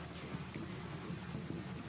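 Rain mixed with sea mist patters steadily against a coastal bookshop window at night, a soft, even hiss with low rumbling underneath and no voices.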